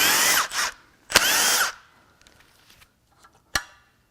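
A power tool whirs in two short loud bursts while removing the pickup tube and windage tray from a Jeep 2.0L turbo Hurricane engine, then comes faint clicking and a sharp knock.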